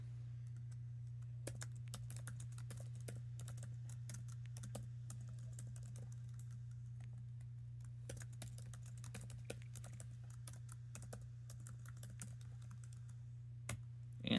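Keys tapped on a 12-year-old MacBook Air keyboard in short irregular bursts, soft and close, over a steady low hum, with no voices.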